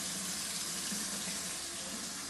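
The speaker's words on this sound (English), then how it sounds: "As you can see, the water is draining freely." Water runs steadily down a freshly unclogged kitchen sink drain after an electric auger job, a continuous close rushing flow with no talk over it.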